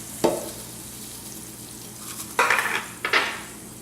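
Onions fry in a pan under a low, steady sizzle while fennel seed is added, with a sharp utensil clink followed by two louder bursts of stirring and scraping.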